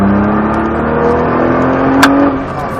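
A Nissan GT-R with 550 hp accelerates hard on the Bresse race circuit, its engine note loud and close inside the car as the revs climb steadily, then easing slightly near the end.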